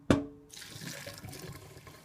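Purple cooking water from black rice is dumped into a kitchen sink: a sharp splash onset, then a steady rushing pour and trickle draining for about two seconds, close and fairly loud, with no talking.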